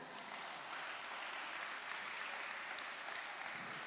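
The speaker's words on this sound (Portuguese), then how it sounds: "Uma salva de palmas para a vida dele." Congregation applauding during a church sermon, a soft, even wash of clapping heard from a distance and held at a steady low level throughout.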